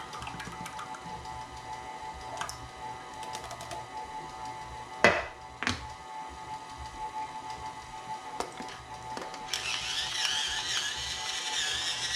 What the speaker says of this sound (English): I'm going to put some cracked pepper in here.